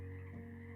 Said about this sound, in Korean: 12시 이후에 우는 개구리 울음소리가 희미하게 들려왔다